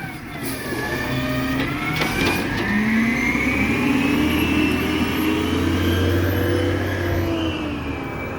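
A garbage truck's mechanism grips and compacts trash, its engine droning loudly and steadily throughout with rising hydraulic whine and some clanks near the start, close by.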